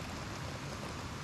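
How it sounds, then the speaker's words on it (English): Heavy rain and rushing waterfalls at a lake in a park in early spring make an even, dense hiss of water, close and unbroken across the short moment, with no voices. "listen to the waterfalls and the heavy rain"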